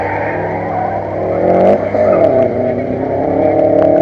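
A Mazda RX-8 race car runs a timed course at an autocross event, its engine note rising and falling as it accelerates and lifts through turns, loud and fairly close, with a faint voice over it.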